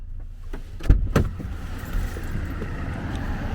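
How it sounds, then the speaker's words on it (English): Road traffic passes close by outside near roadworks, a couple of sharp knocks early on, then a steady broad wash of vehicle noise that continues to the end. "Excuse the noise guys, as you can see we've got loads of traffic here."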